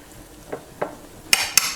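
Eggs cooking in a pan, a faint low sizzle broken by two soft spatula scrapes and then two sharp metallic clinks of a utensil against the pan.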